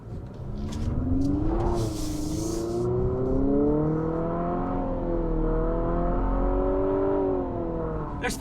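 A 268-horsepower 2022 Infiniti QX55 engine revs up and climbs in pitch as it accelerates toward 50 mph, a smooth rising drone heard from inside the vehicle, with road rumble underneath.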